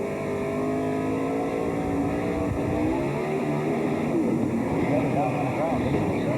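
Dale Earnhardt Jr.'s Winston Cup race car at Richmond in 2002, its engine revving and wavering as the throttle is worked after the car snaps loose off turn 4, loud and steady with a voice talking over it.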